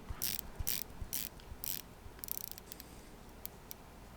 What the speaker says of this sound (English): The bezel is a stainless steel unidirectional 120 click action